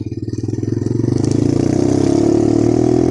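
A motorcycle engine and exhaust run while riding, a loud close pulsing thump that climbs steadily in pitch and speed as it accelerates, with no talk.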